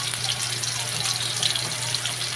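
Steady, loud frying hiss as onion goes into a pan of frying potatoes and pointed gourd, a dense continuous sizzle with no pauses or talking.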